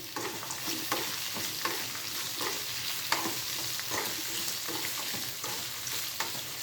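Garlic cloves sauté in a pan with a steady low sizzle, broken by repeated scraping stir strokes. The sizzle stays close and moderately quiet, with no voices.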